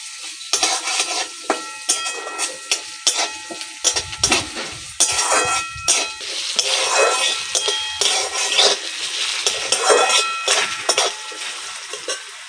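Diced potatoes frying with curry leaves in oil in a pan, with repeated clinks and scrapes of a metal spatula against the pan over a low sizzle, close and rhythmic with short pauses between strokes.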